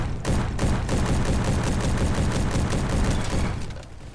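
Rapid gunfire from an FAL rifle in the game Bad Business, a loud, dense run of closely spaced shots that carries on without a break for about four seconds before tapering off.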